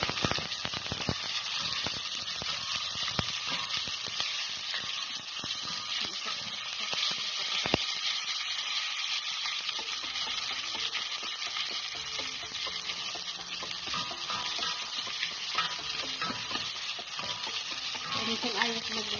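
Tomatoes sizzle and fry in a hot pan for a pork and mixed vegetable miki dish, with steady crackling and occasional scraping stir strokes close by.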